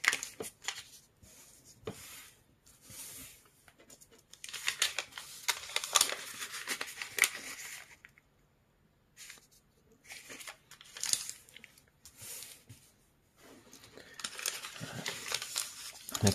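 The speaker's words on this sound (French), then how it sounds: "on va commencer par plier, par marquer le pli sur les deux diagonales" Origami paper crinkles and rustles up close as a sheet is folded and the creases along both diagonals are pressed in, coming in irregular bursts of scraping and crackling separated by short quiet gaps.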